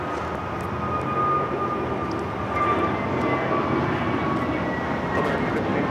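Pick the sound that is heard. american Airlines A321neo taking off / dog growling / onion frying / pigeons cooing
american Airlines A321neo taking off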